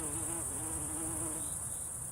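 Bees buzzing around flowering rosemary in the garrigue, a close, continuous droning hum that wavers slightly in pitch, over a steady high insect whine.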